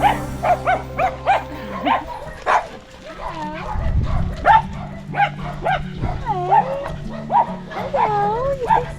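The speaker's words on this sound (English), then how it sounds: "Greeted by so many dogs right now." Many dogs and puppies bark, yip and whimper all at once on a farm in Portugal, with sharp, repeated yelps close by over a low rumbling background, while people talk throughout.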